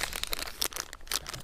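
A plastic bag crinkles close up during the unboxing of an SJCAM SJ6 Legend action camera, with quick rustling bursts in an irregular rhythm.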